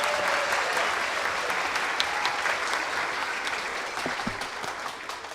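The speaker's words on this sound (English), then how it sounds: "Let's give them another round of applause." Audience applauding after a first grade school musical performance, a steady dense wash of many hands clapping throughout, fairly loud and gradually tapering toward the end.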